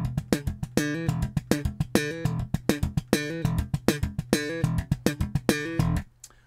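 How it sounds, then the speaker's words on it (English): Electric bass in slap style, mixing thumb slaps, popped notes and muted dead-note left-hand slaps in a tight repeating funk rhythm, close and loud, ending with a brief low ringing note. "It starts off with a slap, a left hand slap, a dead slap while you're muting the strings there"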